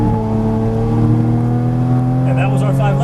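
A Porsche Cayman GTS engine drones loud and steady on track, its harmonics holding near constant with a slight rise toward the end, close up and continuous throughout.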